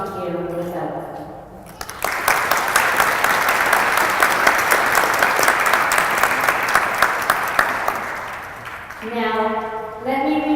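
A graduation ceremony audience breaks into loud, sustained applause from many hands that lasts around seven seconds and then fades. A speaker's voice is heard just before the clapping starts and again as it dies away.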